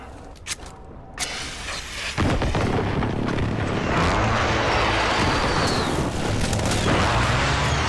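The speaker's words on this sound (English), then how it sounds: "Friendly precision airstrike on the way." A friendly precision airstrike in Call of Duty Modern Warfare hits as a big blast after a few sharp earlier shots. It swells into a sustained, heavy roar of explosions and rumbling debris that holds loud to the end.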